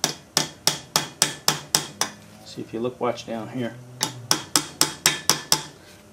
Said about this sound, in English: I can get this to move with a hammer.